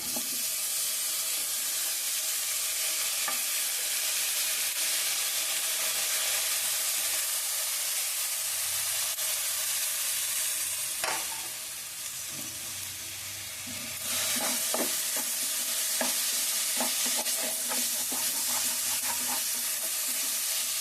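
Tomatoes sizzle and fry in hot oil alongside drumstick pieces and raw cashews for a curry, a steady dense crackle filling the whole stretch with occasional scrapes and clinks of stirring, louder again in the second half.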